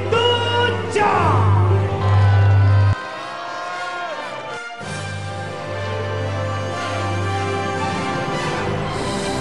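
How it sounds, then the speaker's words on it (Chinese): Crowd cheering and clapping as the Wushan snuff bottle honor award is handed out at a Chinese martial arts fight event. The noise is loud and sustained over background music, eases after about three seconds, then continues at a lower level. "掌声鼓励武山烟壶荣誉得奖"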